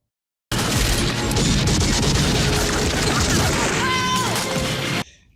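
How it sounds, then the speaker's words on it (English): A bomb goes off in Rambo III with a loud, sustained roaring blast and crashing debris lasting several seconds, then cutting off abruptly. "Kaplooey, and the first 10-minute bomb went off."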